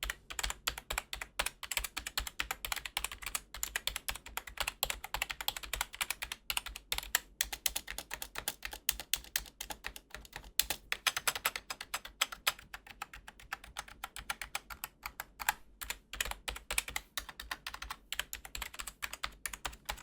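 Rapid typing on an OKER KB-789 gaming keyboard clatters on continuously, sharp clicky keystrokes in quick, uneven bursts, close and clear with no voices.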